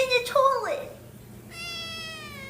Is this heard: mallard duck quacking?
no